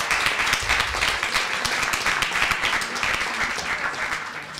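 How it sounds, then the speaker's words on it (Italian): A university audience in New York applauds a guest: dense, sustained clapping from many hands, loud and even throughout, with no voices standing out. "we should all greet her with a round of applause"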